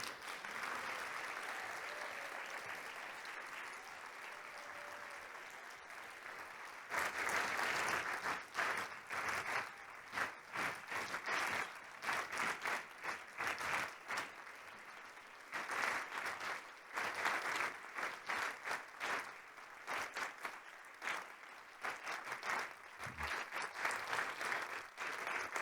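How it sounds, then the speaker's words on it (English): An audience at a national research slam event gives the finalists a long round of applause, quieter clapping at first, then swelling into loud, dense clapping with rhythmic bursts and some crowd noise. "a final collective round of applause"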